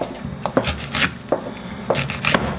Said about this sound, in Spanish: vamos a cortar en rodajas la cebolla